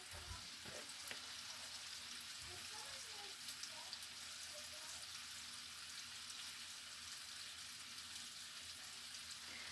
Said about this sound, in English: We got the sausage over here still browning in the pan.